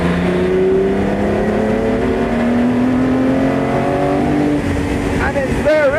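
A classic Ferrari engine revving as the car accelerates, a loud sustained roar with rising tones through the gears, close, with someone talking over it.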